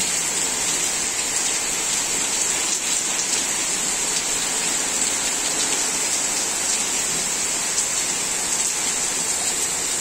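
Steady, dense rainfall in Bangalore hisses continuously for the whole stretch, an even wash of drops on surfaces with no voices.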